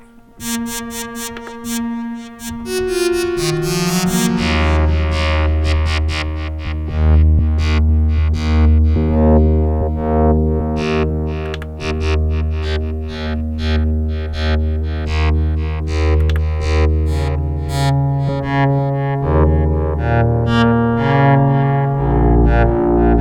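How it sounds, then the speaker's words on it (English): A KORG ModWave wavetable synth played through a BPM one-head tape echo delay, with plucked and sustained tones and a rich bass whose repeats smear into a dense, slightly distorted wash that carries on for over twenty seconds, with no talking. "A little bit of tape echo delay."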